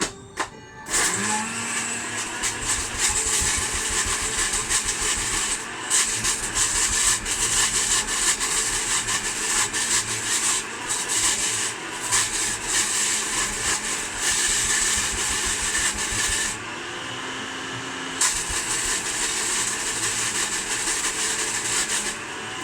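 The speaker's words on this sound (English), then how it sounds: "I'm going to give this more of a whiz up now" Blender whizzing up Thai red curry paste, a steady loud motor whir running almost the whole time with a brief dip in pitch partway through, no voices over it.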